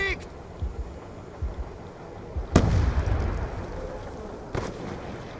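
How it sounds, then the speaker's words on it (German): A grenade explodes in the video game Black Ops II, a sudden loud blast with a rumbling tail about midway, followed by a second sharp bang, over game background noise and faint chatter. "Granate fliegt!"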